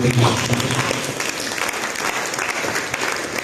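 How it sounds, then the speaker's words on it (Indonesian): Steady applause from a church congregation, a dense patter of clapping that carries on throughout. "Mari kita berikan tepuk tangan."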